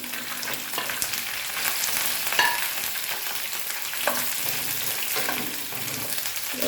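Garlic fries steadily in a pan, a dense, close sizzle with occasional stirring scrapes, continuous and fairly loud with no voices over it.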